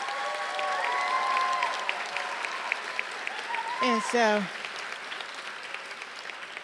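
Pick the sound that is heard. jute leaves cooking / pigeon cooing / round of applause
round of applause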